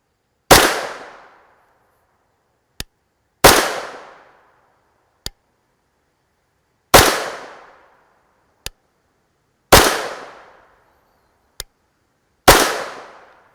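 A CZ Scorpion Evo 3 S1 short-barreled 9mm fires five loud, evenly spaced single shots outdoors during a gel test. Each report decays quickly, and a faint metallic click follows each shot.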